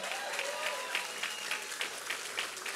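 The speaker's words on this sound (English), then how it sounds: "Let's give a big round of applause to our county executive, George Latimer" Rally crowd applauding for a county executive at a get-out-the-vote event, steady dense clapping with a few individual claps standing out, with faint voices under it.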